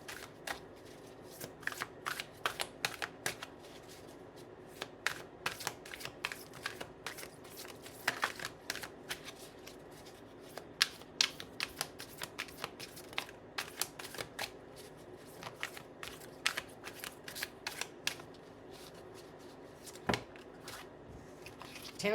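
Tarot cards shuffled steadily by hand, a continuous run of soft riffling flicks and taps up close, with no talking.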